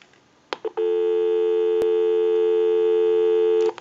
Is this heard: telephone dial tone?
yes